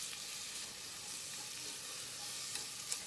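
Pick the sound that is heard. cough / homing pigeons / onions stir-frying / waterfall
onions stir-frying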